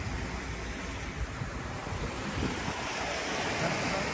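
Steady rush of sea waves breaking at Akbük, Didim, on the Turkish coast, with a constant windy hiss over the water and no voices.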